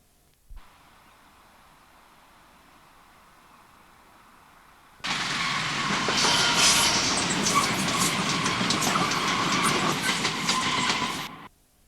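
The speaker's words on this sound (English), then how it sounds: "Full cement tanks head north for Chinley and Eccles." A freight train of full cement tanks heading north toward Chinley starts with a faint distant rumble. It then swells abruptly into a loud, close rolling roar with rhythmic wheel clatter for several seconds before cutting off.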